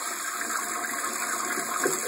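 A toilet flushes with an orange dropped into the bowl, a steady rushing gush of water held close and loud for a couple of seconds with no talk over it.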